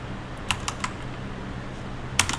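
Computer keyboard shortcut keys tapped during CLO3D pattern work: a few sharp, close clicks in two small clusters, separated by a quiet pause.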